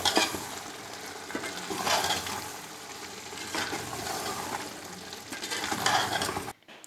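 Beef and spinach cook with fresh coriander in a frying pan, a spoon stirring and scraping through a close, steady sizzle in several pushes before the sound cuts off near the end.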